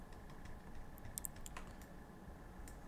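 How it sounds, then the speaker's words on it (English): Faint clicks and taps on a computer keyboard, including a spacebar press, a few light keystrokes scattered over a quiet room hum. "Then we'll hit spacebar"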